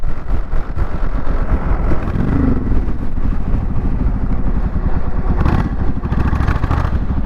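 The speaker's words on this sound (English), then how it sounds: "1400cc, it's a big bike." A Suzuki Intruder VS1400 cruiser motorcycle with a 1400cc engine, heard while riding as a loud, steady, close engine drone mixed with rushing wind, without talk.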